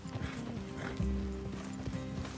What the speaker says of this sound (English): Let's leave the horses here and take a look.